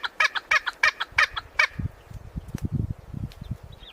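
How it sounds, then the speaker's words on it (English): A hornbill on the African savanna gives a quick series of about five evenly spaced, ringing calls, then a run of lower, softer pulsing notes near a termite mound where mongooses shelter. "Only after the eagle disappears does the hornbill switch to softer calls."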